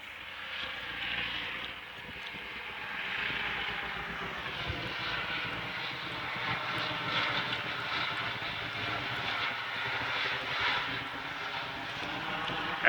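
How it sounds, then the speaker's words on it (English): An Aerovac medical helicopter passes over a house near a hospital. Its engine drones steadily at moderate distance, swelling and fading slightly for about thirteen seconds, with no voices. "but we've got Aerovac helicopters"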